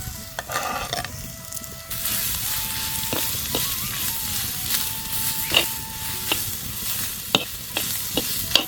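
Onion, coconut and green chilli stir-frying in a pan make a loud, close sizzle, with repeated scraping and clinks of a spatula against the pan and a couple of brief thin squeaks.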